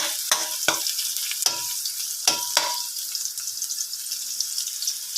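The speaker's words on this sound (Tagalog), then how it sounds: "gisa-gisa lang natin guys ng bahagya itong ating sibuyas at bawang" Onion and garlic sautéing in a pan make a close, continuous sizzle, broken early on by several sharp scraping stirs that then settle into a steady hiss, with no one talking.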